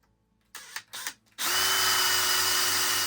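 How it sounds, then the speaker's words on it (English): A power drill runs steadily while facing the top end of a brass pen barrel, a continuous loud whine starting after a few short bursts of rustling and handling noise. "So now we've drilled and faced the barrels themselves."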